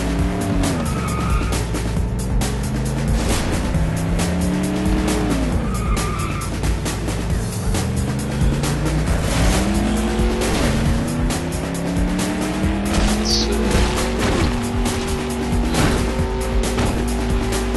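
A car engine revs and shifts pitch repeatedly in the video game Clutch, with tire squeals and skids cutting through a loud, continuous stream of racing effects.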